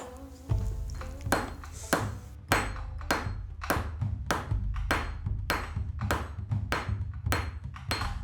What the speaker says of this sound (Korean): 공방에 울려 퍼지는 날카로운 망치질 소리